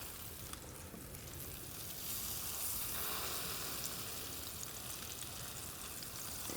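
Crawfish slider patties sizzle and crackle in a hot pan on high heat, a dense, continuous frying hiss that swells slightly partway through, heard close with no talking.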